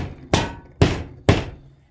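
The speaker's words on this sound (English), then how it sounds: "we're hammering some stuff on the walls" Hammering on indoor walls: three sharp, close blows land about half a second apart, each with a quick decaying ring, with no voices.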